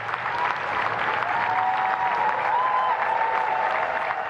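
A crowd applauds and cheers as the new Prime Minister Andy Burnham and his wife Marie-France arrive near Buckingham Palace. The clapping is dense and continuous, with a faint whistle-like tone rising above it.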